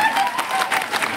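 A crowd at a political gathering claps steadily for a moment, a dense, even patter of many hands at moderate volume with no clear peaks.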